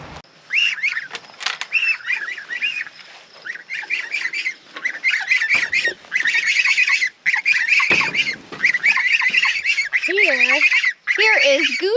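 Young geese in a borrowed chicken tractor honk and squawk almost nonstop, with overlapping calls from several birds close by and a few brief gaps, and no talking.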